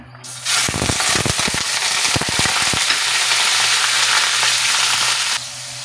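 Chicken pieces hit hot blended sunflower and olive oil, setting off a sudden loud, steady sizzle with sharp crackles and pops early on, holding strong before cutting off abruptly.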